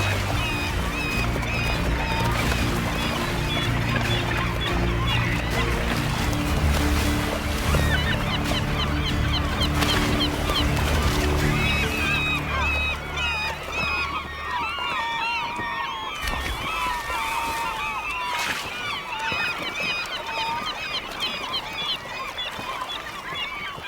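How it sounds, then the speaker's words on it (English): A raucous flock of seabirds calls overhead in dense, overlapping honking cries, loud at first over a deep rumbling background, then thinning to clearer scattered squawks. "As they're ambushed from above by a raucous flock of seabirds."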